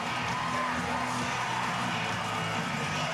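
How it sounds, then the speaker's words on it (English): A stadium crowd at FMG Stadium roars in a sustained ovation as the Chiefs and Reds rugby teams take the field for a Super Rugby quarter-final, a broad, steady wash of distant cheering. "And a wonderful ovation in front of a great crowd at"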